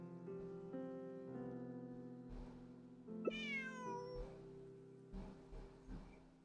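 A cat in the game Genshin Impact meows once in a drawn-out, rising call, set over soft sustained musical tones and a few quieter game sounds.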